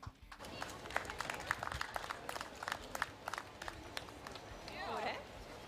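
Outdoor audience at an old car show clapping for a speaker, a steady patter of many hands that rises toward the end, with some voices underneath.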